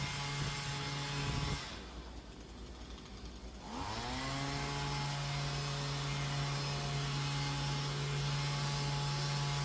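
A loud, steady leaf blower drone with a whooshing airflow, blowing leaves into grass while snowing, briefly dropping in pitch then revving back up and holding constant.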